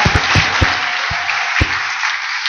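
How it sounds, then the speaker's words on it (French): Congregation applause during a French-language church service, a dense wash of many hands clapping with a few heavy low thumps scattered through it, loud and close. "Applaudissons pour le Seigneur."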